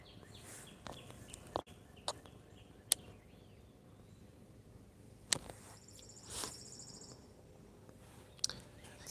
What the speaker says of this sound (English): Hopefully you all can hear some of the birds.